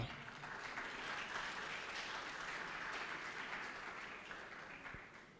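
Audience clapping at a cassava conference, a faint, steady patter of hands from a distant crowd lasting several seconds and slowly tapering.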